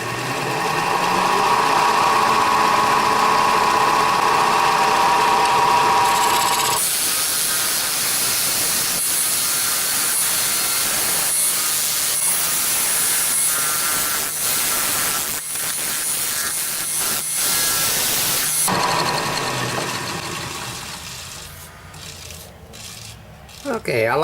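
Wood lathe turning a carrot wood vessel while the tenon is finalized, a loud, steady high hiss of the cutting tool against the spinning wood that runs continuously, then shifts tone and eases off near the end.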